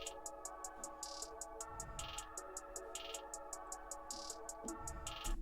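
A single programmed hi-hat repeats in fast, evenly spaced rolls over a sustained synth pad and low bass hits, steady and fairly quiet throughout, with no voices.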